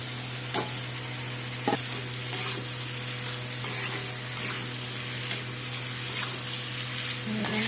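Eggplant frying in fish oil with chili, a constant close sizzle punctuated by regular clinks and scrapes of a spatula stirring in the pan, no voices.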